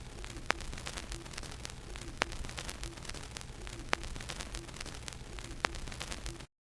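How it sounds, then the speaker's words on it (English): Vinyl crackle texture layered into a sad vintage-style sample: steady faint hiss with dense crackles and a few sharp pops at regular intervals, quiet and continuous. "I then added a Vinyle Crackle,"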